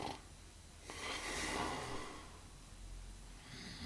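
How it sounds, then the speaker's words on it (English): Snoring from a sleeping person in a dark room at night, a single drawn-out rasping breath that swells and fades, fairly quiet and close with no talk. "Snoring."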